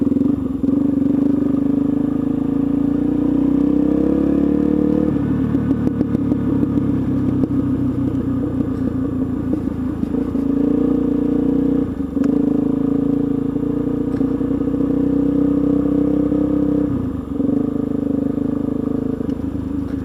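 Steady, loud dirt bike engine drone while riding a trail, a continuous rumbling hum with brief dips in throttle and some clatter throughout.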